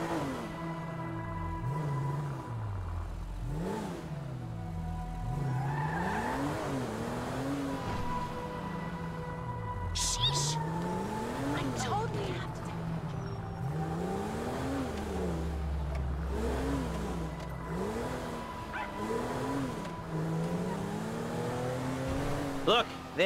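A car in the GTA V video game drives around a city block, its engine revving up and dropping through repeated gear shifts, with occasional tire squeal, loud and close throughout.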